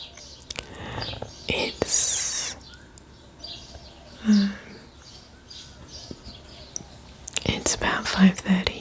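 Early-morning birdsong around 5:30 a.m., scattered chirps and calls at moderate distance over a quiet background, with soft whispered talk and occasional handling noises close by.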